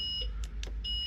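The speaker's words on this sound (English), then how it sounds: "That alarm's just because I've opened the door from house external" Bus door alarm on a service bus beeping as the door is opened: sharp, steady high-pitched tones sounding twice, a short beep then a longer one, over low engine rumble with a couple of soft clicks between.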